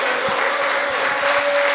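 A church congregation applauding, a brief, loud, dense burst of clapping that holds steady, with a faint sustained tone running beneath it and no talking.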